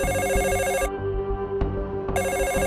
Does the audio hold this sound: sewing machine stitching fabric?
no